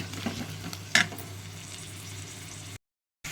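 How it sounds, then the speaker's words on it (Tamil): Onions with ginger garlic paste fry in a pan as a steady sizzle, with a sharp scrape or clink of stirring near the start. The sound cuts to silence briefly at the end, and no one speaks. "வெங்காயம் வதங்குறப்பே நம்ம இஞ்சி பூண்டை விழுதையும் போட்டு நல்லா வதக்கிக்கலாம்,"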